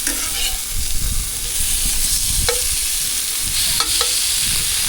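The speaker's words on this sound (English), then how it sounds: "we're cooking on gas because we are having steak" Steak sizzles and fries on a gas cooker at a campsite, a loud, steady hiss with occasional sharper crackles and a few clinks of utensils close by.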